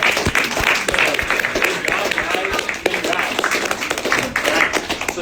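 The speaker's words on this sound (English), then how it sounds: "Can you give them a big round of applause?" An audience at a sales meeting claps loudly with distinct, sharp hand claps and some cheering, while voices carry on underneath.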